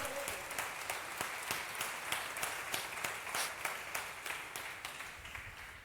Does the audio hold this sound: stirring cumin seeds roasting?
no